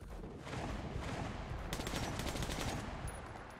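Gunfire in the video game Metro Last Light, a dense burst of rapid shots over about three seconds, loud and continuous with no speech.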